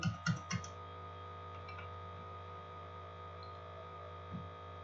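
Three quick computer keystrokes click close together at the start over a steady electrical hum, followed by one faint later tap, with no one talking.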